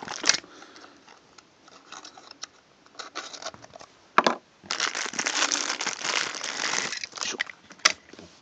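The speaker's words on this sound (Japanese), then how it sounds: "早速開封していきます" Packaging of a Tomica collection sedan toy car being opened, heard as close plastic and paper crinkling, tearing and rustling in irregular bursts. A louder stretch of handling comes near the middle, and no voice is heard.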